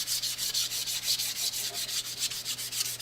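A wooden axe handle on a small forest axe is sanded lightly to knock down the raised grain, giving a close, steady rhythmic rasp of quick back-and-forth strokes with no talk.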